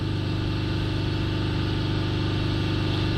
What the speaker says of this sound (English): The engine's been running less than a minute, so good results.